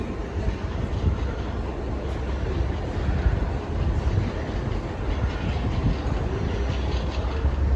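Train at Dover Priory station on a Southeastern line, a continuous broad rumble with faint rail clatter, steady and fairly loud throughout, no voices.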